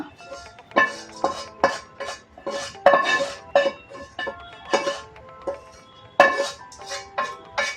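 Rice and vegetables are scooped into a rice cooker, with repeated metallic clinks and scrapes of a utensil against the pot in short, irregular bursts.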